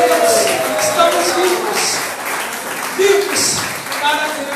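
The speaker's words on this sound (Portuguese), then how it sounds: "Quem está vivo aí, levanta a mão e aplauda o Senhor" A church congregation applauds, with scattered clapping mixed with voices and shouts of praise rising and falling across the room.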